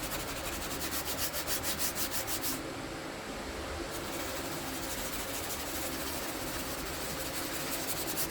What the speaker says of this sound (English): finish with a DA sander using 220 grit for a smooth,